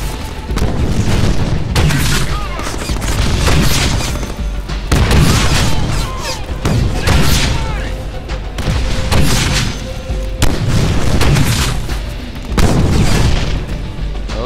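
Gunfire and explosions in the Deadpool video game: loud, repeated booming blasts and crashes in quick succession, with rattling shots between them and no talk.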